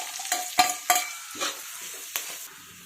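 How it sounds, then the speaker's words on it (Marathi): A spice paste of mustard seeds, cumin and curry leaves sautés in a hot pan for a stuffed capsicum dish. A steady close sizzle carries a few sharp stirring scrapes and pops, with no talking. "हे जे वाटण आहे ना ते आपण याच्यात परतून घेऊयात"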